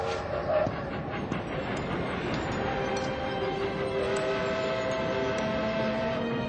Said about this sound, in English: So they boarded a train and headed east.